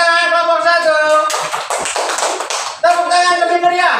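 A classroom group claps for the first student team, a short burst of dense handclaps in the middle with a person talking before and after it.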